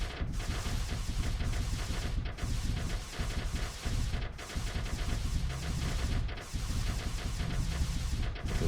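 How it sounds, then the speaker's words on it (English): A warship in the strategy game Knuckle Cracker fires all its missiles in a loud, continuous barrage of gunfire-like bursts, pulsing in waves roughly every second or two with brief dips between volleys. "there goes the Wolf firing all of his missiles"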